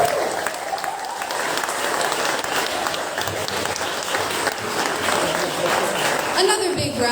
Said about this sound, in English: Another big round of applause for Piper.